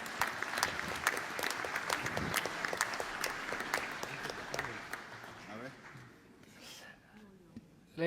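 An audience at a flying federation congress claps steadily for several seconds, the applause thinning and fading out near the end.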